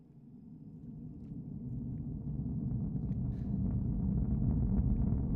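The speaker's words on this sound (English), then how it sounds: "we can start to hear the roar of those 9 Merlin engines from here at the press site" Deep, steadily building roar of a SpaceX Falcon 9 rocket's nine Merlin engines heard from a distant press site about 20 seconds after liftoff, a broad low rumble growing louder throughout with no voices.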